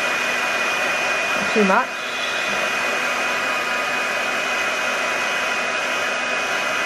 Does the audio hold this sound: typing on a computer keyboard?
no